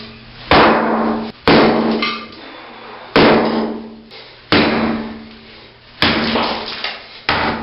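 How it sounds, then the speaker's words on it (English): A sledgehammer pounds and breaks up a concrete floor in a basement bathroom remodel. About five loud, close, heavy impacts land at uneven intervals, each ringing briefly before fading. "take a good old-fashioned sledgehammer and pound out that middle piece"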